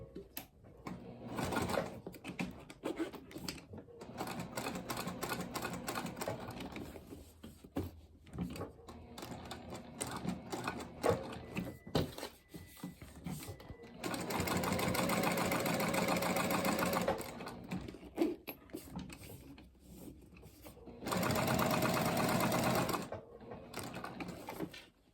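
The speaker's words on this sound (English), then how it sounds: "So I'm just going to pick a spot, start anywhere, and stitch all the way around." A sewing machine runs in bursts, stitching all the way around a coffin-shaped wallet with rainbow thread on a 1/8 inch seam; steady mechanical whirring runs in long stretches broken by short pauses, close and moderately loud.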